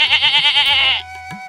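A goat bleats in a cartoon moral story, a loud wavering cry lasting about a second, alone and close, followed by a faint thump.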